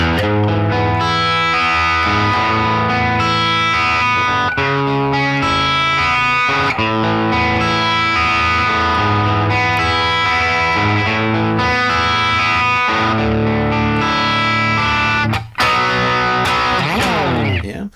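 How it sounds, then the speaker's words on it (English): An electric guitar plays the pre-chorus riff of a song with distortion and effects, loud and dense, with shifting chords ringing continuously and a brief dip near the end, no talking. "So that's the general idea for that pre-chorus riff."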